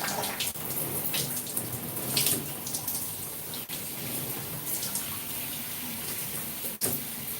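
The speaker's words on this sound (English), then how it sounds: "I want to make sure my hair is saturated with water" Warm water runs steadily over 4c natural hair during a wash, making a continuous close splashing hiss with small bursts and drips throughout.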